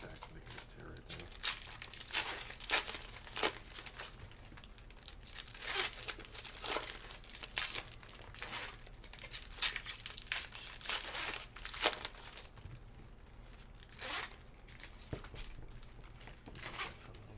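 Foil packs of NFL trading cards being torn open and handled, with repeated crinkling, crumpling and ripping bursts at close range, while people chat intermittently nearby.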